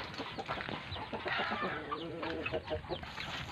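A native chicken rooster on a farm clucks in quick, close, fairly soft bursts, with scattered low calls and faint barnyard background, no talking.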